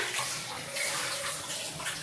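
Water running steadily in a bathroom, a continuous close rush and splash like a tap filling a tub, with no talking over it.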